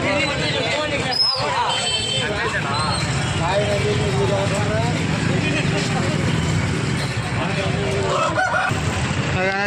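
A rooster crows amid a busy chicken market in Nellore, with crowd chatter and voices talking throughout.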